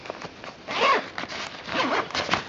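The zipper on the ball pocket of a golf bag is pulled open in a few rasping strokes, close and clear, with short pauses between pulls.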